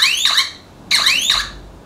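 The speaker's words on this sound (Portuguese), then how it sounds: "Além de eu desabilitar o bip da sirene" Beeps from an Intelbras ANM 24 Net alarm siren sound in two short clusters of bright, rapid electronic chirps, loud and close, with a brief pause between them and no talking.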